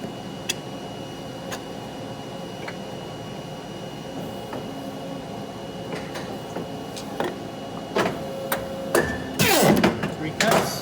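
A paper cutter chops through stacks of 18pt business card stock, sharp thuds and clacks coming at irregular intervals. They grow louder and denser toward the end, over a steady hum of machinery in a print shop.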